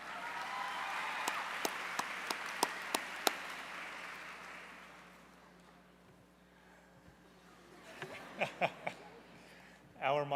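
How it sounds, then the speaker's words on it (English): Audience at the Miami Herald Silver Knight Awards ceremony bursts into sustained crowd applause that swells then fades over several seconds, with a few sharp close claps on top and some louder clapping picking up again near the end. "Let's give a round of applause to Ms. Edgar and Arizel Cornell from Marjorie Stoneman Douglas High School."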